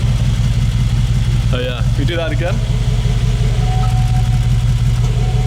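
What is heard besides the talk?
Mercedes G63 engine revving with exhaust valves open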